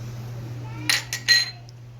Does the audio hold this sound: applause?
no